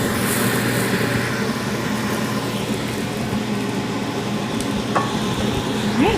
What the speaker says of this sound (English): Move the ones from the cooler part of the grill to the hotter part, and keep rolling.